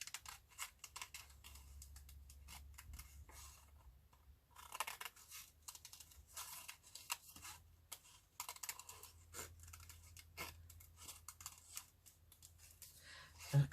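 Scissors snip loosely around a paper doll picture, close and quiet, a run of irregular crisp cuts with short pauses between strokes.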